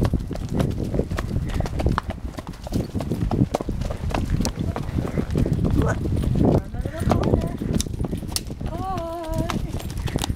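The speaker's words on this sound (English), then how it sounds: "if you were riding behind Griffin on Sunny" Steady clip-clop of horse hooves plods along in a continuous rhythm, close and clear, with people talking over it and a brief whinny near the end.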